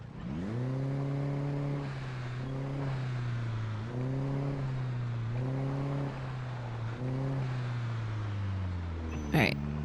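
Car engine in a zombie video game holding a steady droning note with repeated rising rev swells as it backs up, loud and continuous, ending in a brief sharp burst near the close.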